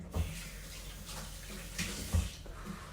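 Hands are washed in bleach water at a kitchen sink, with soft splashing and sloshing, a few louder splashes and thumps, all fairly faint and close.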